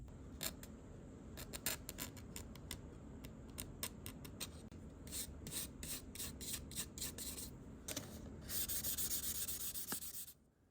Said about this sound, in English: Then give the entire body a good sanding to make sure to get out any imperfections in the resin due to casting.